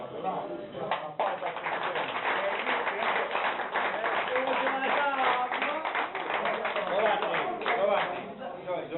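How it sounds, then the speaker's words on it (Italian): Clapping from diners at a shared meal in honor of Donato, a steady round of hand claps at moderate distance that keeps going throughout, with voices mixed in. "applauso a Donato."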